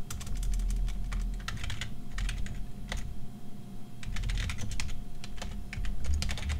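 Steady typing on a computer keyboard while writing C++ code, a close, continuous run of quick key clicks with brief pauses over a low background hum, no voice.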